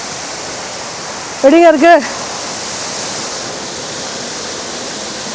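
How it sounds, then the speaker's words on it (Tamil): Ban Gioc waterfall on the Vietnam–China border, a steady rushing roar of falling water that fills the whole stretch, with a person briefly speaking over it near the middle. "குட்டி அருவி அழகாக இருக்குல்ல?"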